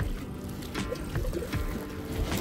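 Soft splashing and gurgling water from steady kayak paddle strokes in Brazil, with a low rumbling background throughout.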